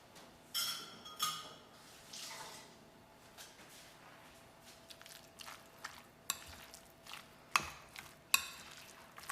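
Dry seasonings for fried chicken, including paprika, dried thyme and garlic powder, are mixed in a bowl. The result is faint, scattered scrapes and soft clicks spread unevenly across a quiet background, with no talking.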